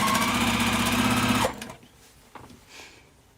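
A sewing machine runs in a steady close hum for about a second and a half while piecing fabric, then stops, leaving faint handling noises.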